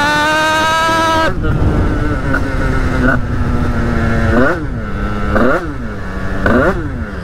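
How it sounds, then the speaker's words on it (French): A motorcycle engine runs loudly up close, idling and then revving repeatedly through several rising and falling bursts. "Ça, elle commence à être à peu près chaude, la moto."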